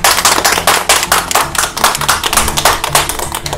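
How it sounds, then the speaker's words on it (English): Passengers on a cruise boat at Lambert's Bay clap together in steady unison, loud and close, over the low hum of the boat's engine. "hey, clap. One, two, three"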